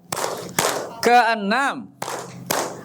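Children in an Iqra Qur'an-reading class clap their hands in short, sharp bursts of two, with chanted voices between the claps.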